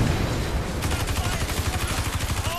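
Rapid gunfire in the video game Watch Dogs 2, a dense run of regular bursts firing at the player's character, loud and continuous over steady game noise.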